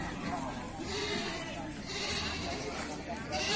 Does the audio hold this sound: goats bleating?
yes